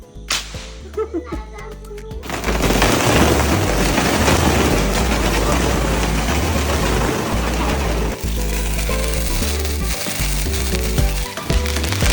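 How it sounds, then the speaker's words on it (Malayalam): After a quiet start, thread-pull firecrackers burst into a dense, loud run of rapid crackling pops, over low background music. "ഇതാണ് നൂൽ പടക്കം കേട്ടാ ഇങ്ങനെ വെച്ചിട്ട് രണ്ട് നൂലിനെ ഇങ്ങനെ പിടിച്ച് വലിച്ചാതി പൊട്ടും"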